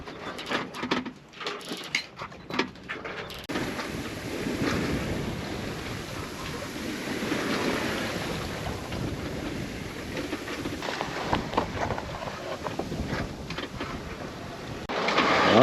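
Wind rushes steadily across a sailboat under sail at sea, a broad, continuous whoosh with gusts buffeting the microphone, rising slightly toward the end; no voices.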